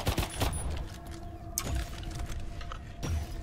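Scattered gunshots ring out in an Earthfall co-op game, a few sharp separate cracks spaced over a few seconds, fairly faint, with no talking.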